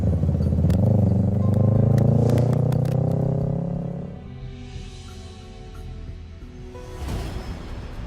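Motorcycle on a street, its engine droning loudly as it passes close by, then fading away, with a brief swell of traffic noise near the end.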